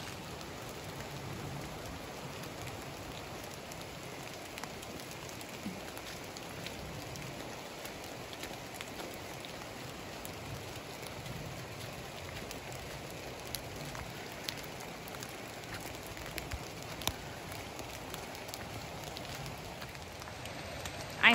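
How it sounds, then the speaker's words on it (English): Light rain sprinkling steadily on the Appalachian Trail near Mount Rogers, a soft, even patter of drops on surfaces around a hiker, faint and continuous with no voices. "it's really not raining that bad right now. It's just kind of a sprinkle."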